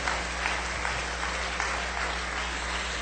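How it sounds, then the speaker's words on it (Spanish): A church congregation applauds steadily in a large hall, a continuous wash of many hands clapping at even loudness, with a low hum beneath and no distinct voices. "Dale un aplauso para el Señor"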